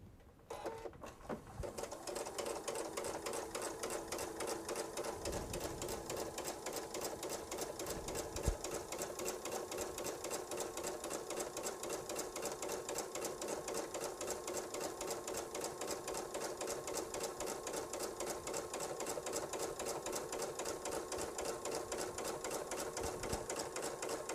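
A sewing machine stitches pieced fabric for a quilt in a rapid, even mechanical chatter that runs continuously and close for over twenty seconds after a brief start-up, with a few soft knocks along the way.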